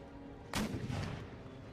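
A single heavy cannon blast from an 18-pounder or 24-pounder howitzer in Empire: Total War, a sudden loud boom followed by a rumbling decay over low ambient battle noise.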